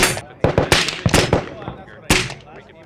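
An MDX AR-style rifle in 5.56 with a 5.5 inch barrel fires several sharp, loud shots outdoors at a range, irregularly spaced with echoing tails, amid other gunfire.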